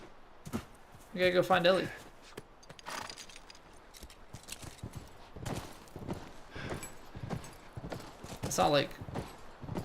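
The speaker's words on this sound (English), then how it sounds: "Come here, horsey." Horse hooves clip-clop in The Last of Us, soft and steady beneath continuous in-game talking, with a couple of louder harmonic bursts near the start and end.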